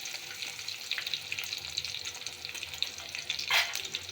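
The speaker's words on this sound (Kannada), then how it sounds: "ನೋಡಿ, ಚೆನ್ನಾಗಿ ಫ್ರೈ ಮಾಡ್ಕೊಳ್ಳೋಣ." Green chillies frying in oil with mustard seeds in a pan for Uttar Karnataka jhunka, a steady close sizzle with faint stirring clatter throughout and a brief louder burst near the end.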